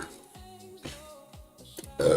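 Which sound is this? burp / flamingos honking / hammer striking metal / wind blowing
burp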